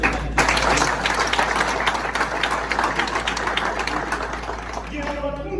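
University audience at a student council ceremony honoring officials applauding warmly, full crowd clapping that starts abruptly and holds steady before easing off, with a low hum underneath.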